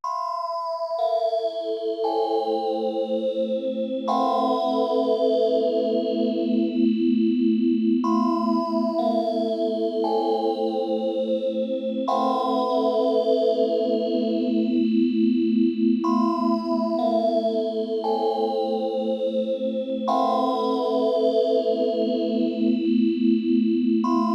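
Waldorf PPG Wave 2.2V legacy VST synth plugin patch: bright, shimmering chorused chords with descending arpeggiated notes and echoing tails over a sustained low pad, continuous and loud, with no talking.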